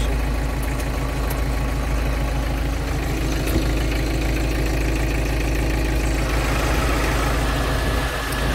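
An ISEKI TA455 tractor engine idles steadily nearby, a constant low, even throb with a faint vibrating hum, holding level throughout with no speech.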